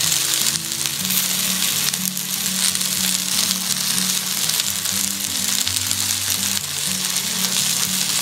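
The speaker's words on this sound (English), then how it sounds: "Once the onion is slightly cooked, add the chopped aloo, chopped carrot" Onion with chopped potato and carrot sautéing in a pan, a steady loud sizzle and crackle running unbroken throughout with a low musical hum beneath.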